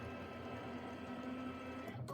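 Quilting sewing machine running on a quilt block, a quiet, steady mechanical hum for about two seconds.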